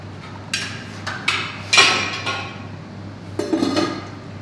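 Metal clanks and clinks close by as a lid is set onto a Saladmaster pan holding chicken parmigiana, a few sharp knocks spread out over a low steady hum, with no talking.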